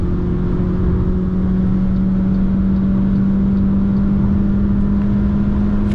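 A 2024 MG HS 1.5 T-GDI DCT with 160 hp runs at full throttle on an unrestricted German motorway, a loud, constant engine hum and road roar from inside the cabin. No voices are heard.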